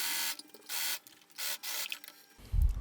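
A sewing machine stitches linen dress front pieces in short bursts of whirring with brief pauses between them, close and clear, then a low thump at the end.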